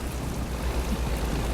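Steady rain from the Euro Truck Simulator 2 game, heard while driving a Kenworth W900 truck, forms a dense, even hiss with low rumble that holds at one level throughout, with no talking.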